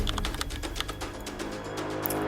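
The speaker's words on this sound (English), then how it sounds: "We launch the beast by typing in sudo space SEToolkit and we hit enter." Computer keyboard keys tapped out a terminal command, then Enter pressed, a quick, close, uneven run of light clicks over a low steady hum, with no voices.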